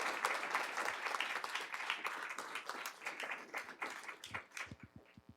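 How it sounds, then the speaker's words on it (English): Applause from the audience at a school board of education meeting, a steady patter of many hands that thins into a few separate claps at the end. "So let's give those folks a round of applause."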